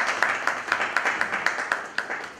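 Thin, scattered applause from a small lecture-hall audience at a literature event, with individual claps landing at an uneven, moderate pace and fading toward the end.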